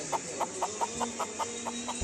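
A chicken at a poultry seller's clucks in a quick, evenly spaced run of about nine short notes, close and moderately loud.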